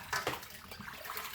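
Water splashes and sloshes briefly as chicken feet are washed in water and vinegar, a short close burst of running, churning liquid with no voices.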